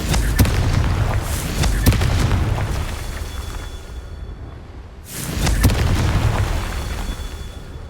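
Deep booming blasts from a fire-based explosion spell in the wizarding game Hogwarts Legacy burst loudly, with sharp hits near the start and a heavy, rumbling detonation about midway.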